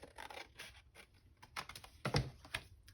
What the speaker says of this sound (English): I'm going to cut this away.